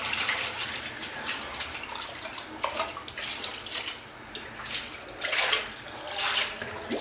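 Hot water heated for washing splashes and gushes into a container in a home, a continuous close pour with shifting surges and drips.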